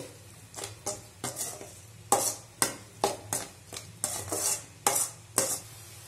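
Noodles stirred in a pan after pepper powder and garam masala go in, a utensil scraping and knocking in a quick uneven rhythm of a dozen or so strokes over a low steady sizzle, close up with no talking.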